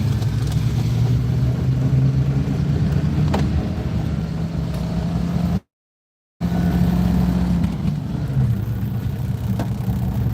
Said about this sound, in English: That's the first car I've seen tonight.